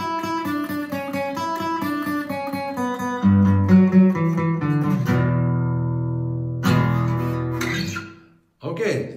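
Acoustic guitar strumming a fill with all downstrokes in an acoustic arrangement, loud and punchy with rhythmic chords, ringing out toward the end before a final strum; no voices.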